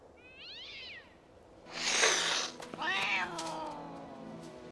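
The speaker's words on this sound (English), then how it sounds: "There's a second cat, too!" A cat meows in a film scene, with a rising-falling wail at the start and a longer meow a few seconds later, separated by a burst of noisy rustle, fairly close and clear.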